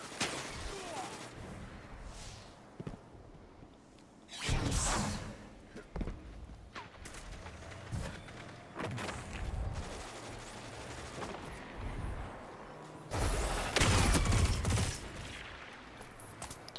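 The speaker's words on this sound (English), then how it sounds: "Using a Vostok which ricochets rounds off of..." The Vostok weapon fires in a Destiny 2 Crucible match, its rounds ricocheting. Bursts of video game gunfire come in clusters of varying loudness, mixed with whooshes and thuds from the match.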